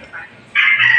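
Young pet chickens with pox on a backyard farm give a brief, loud, close cluck and crowing burst lasting about a second.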